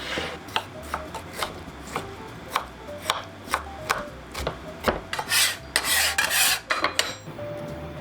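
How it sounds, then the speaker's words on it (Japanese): Salt-soaked zha cai pickled mustard stem minced with a knife on a cutting board, a close, steady run of sharp chopping taps that speeds into dense, rapid strokes near the end, with no voices. "これをみじん切りにしていきます。"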